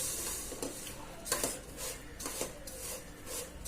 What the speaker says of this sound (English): you can press it with the spatula so that it melts